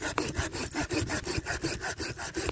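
A hand saw cuts through a branch of a grafted crabapple tree, each close, rasping stroke repeating in a steady back-and-forth rhythm with no talking.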